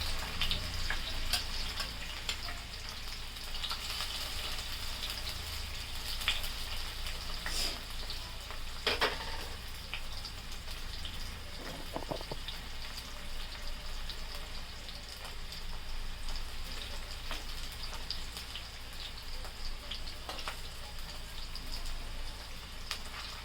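Paneer pieces fry lightly in a pan for a Telugu paneer curry, giving a steady, moderate sizzle with faint crackles and a few brief clinks throughout, with no voices.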